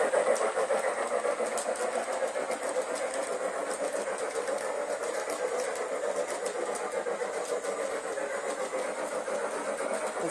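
The motor of a Bachmann Spectrum 2-6-0 Mogul model steam locomotive runs with a steady, even whirring hum, continuous and unchanging throughout, with faint rhythmic clicking.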